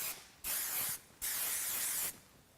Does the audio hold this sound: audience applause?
no